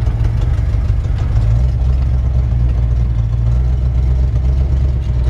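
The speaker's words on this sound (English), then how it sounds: "It's got a little bit of an exhaust leak." A 1951 Ford F1 shortbed pickup engine with a slight exhaust leak, idling steadily with a loud, continuous low rumble and a faint ticking under the exhaust note throughout.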